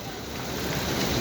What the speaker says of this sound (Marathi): भावांनो पाऊस चालू झाला थोडा थोडा.